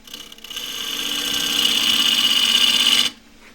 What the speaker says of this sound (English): A 1/2-inch spindle gouge, as usual, on the outside of a bowl